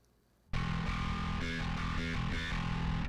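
After a short pause, a heavily distorted bass guitar through a Line 6 Helix on a high-gain grind setting kicks in loud and gritty, with a thick, saturated growl over a few chugging notes.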